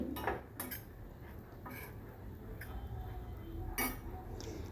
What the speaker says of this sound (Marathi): पुन्हा चांगलं हे चमच्याने एकत्रित करून घ्यायची आहे भाजी